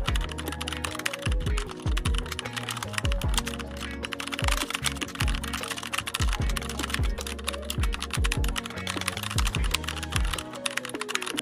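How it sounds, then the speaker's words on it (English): Rapid, steady clatter of computer keyboard keys as code is typed, close and continuous with irregular bursts of keystrokes and no talk. "So I'm just going to type all the code and then I'll explain it."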